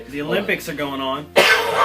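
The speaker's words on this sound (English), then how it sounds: "That's just a cough." A single sharp cough bursts out right after someone speaks a short sentence, loud and close.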